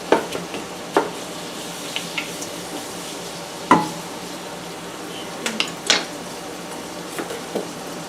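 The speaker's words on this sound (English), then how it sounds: "Just mix it all up. Break up the onions, break them apart." Spoon stirring beef stew in a pot, breaking apart onions, with scattered scraping and clinking knocks against the pot over a low background hiss, no talking.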